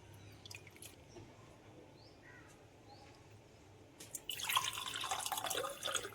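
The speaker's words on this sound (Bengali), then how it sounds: "ফ্রেন্ডস, জল দিয়ে চালগুলো ধুয়ে পরিষ্কার করে নিচ্ছি।" Rice rinsed in water by hand: soft drips and trickles at first, then a louder, close splashing and sloshing of water swirled through the grains in the last two seconds.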